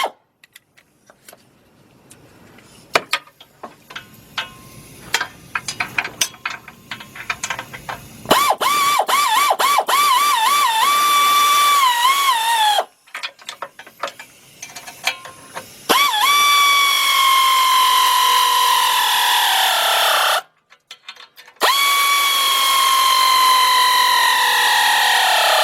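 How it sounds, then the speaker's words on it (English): An air ratchet with a deep 13mm socket on a 4-inch extension tightens bolts on the front catalytic converter of a 2003 Nissan Maxima 3.5. Loud, sustained whining runs in long bursts with shifting pitch, broken by short gaps and clattering handling noises. "I'm gonna use my air ratchet"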